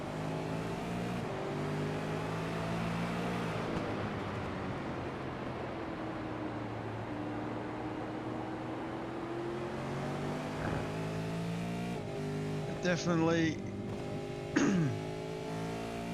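V8 touring race cars drive on the Barcelona circuit, a steady engine drone with rising and falling whine as cars pass. Near the end comes a brief louder burst, and a voice speaks a single word.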